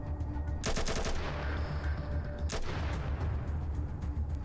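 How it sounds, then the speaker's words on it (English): Bursts of rapid automatic gunfire crackle through a video game battle in Atom RPG, with a long volley early on and a shorter one later over a constant low rumble. No one speaks. "The detective's getting shot."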